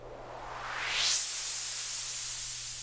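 A synthesized EDM noise effect with reverb, a hissing white-noise sweep rising sharply in pitch over about a second, then holding as a bright airy wash that slowly tails off.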